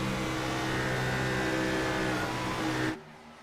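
A steady, buzzing race car engine drones in a racing video game, holding a constant pitch. It drops away sharply near the end as the driver lifts off the throttle on a corner exit.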